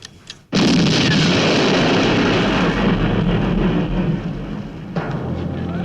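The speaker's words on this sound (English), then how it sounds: "That was a huge explosion." Huge explosion in the 1977 James Bond film The Spy Who Loved Me, a sudden booming blast that erupts out of near silence and rolls on as a loud, sustained rumble before tapering slightly.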